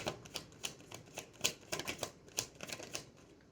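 Tarot cards shuffled and drawn by hand, a close series of quick sharp riffling snaps in an uneven rhythm, each one clear and distinct over a quiet background.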